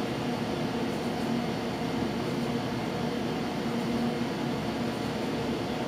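Steady broad engine roar from an airliner accelerating down the runway on its takeoff roll in a flight simulator, with ATPCS mentioned, a constant loud even rumble with no breaks.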